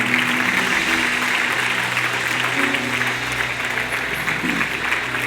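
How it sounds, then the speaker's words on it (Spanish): Steady, dense applause from a church congregation fills the room at an even, loud level throughout, with a murmur of voices underneath. "Los demás, denles un aplauso."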